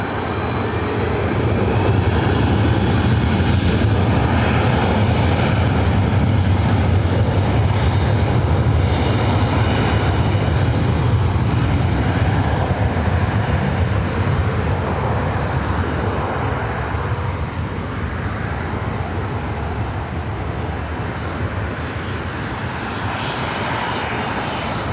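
Airliner taking off from LAX runway 24 right, a loud sustained jet engine roar building and holding steady throughout, broad rumbling power with no voices.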